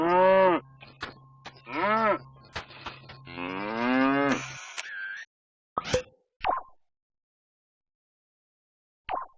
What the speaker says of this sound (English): You could emit Elderflower the cow, for example.